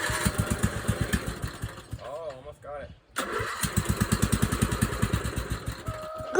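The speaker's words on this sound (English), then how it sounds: "I actually got the mower running after trying it a few more times" A riding mower engine cranks, cuts out briefly, then catches and runs with a steady rapid mid-pitched chug, close and loud, while people talk over it.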